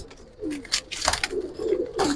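A Giribaz pigeon, a high-flying thirteen-dom bird, gives soft, low, repeated coos in several short bursts, close by and with no talking over it.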